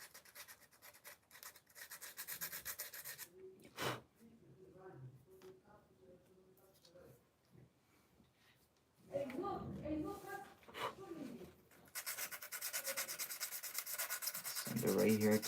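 Close sanding of a PVC model ship, with raspy rubbing strokes in bursts, some quiet pauses between them, and a voice speaking at points.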